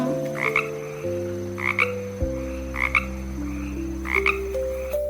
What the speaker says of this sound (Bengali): উমতে ব্যাং, ব্যাং ডাকে ঘ্যাঙর গ্যাং